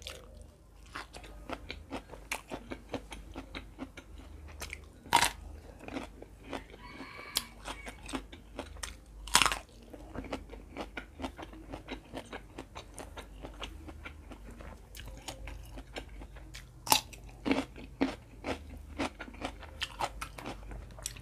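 Close, crisp crunching and chewing of fried fish alongside Isan Thai food such as pickled bamboo shoot soup and fresh vegetables, a steady run of bites and mouth sounds with occasional louder crunches, eaten indoors without talk.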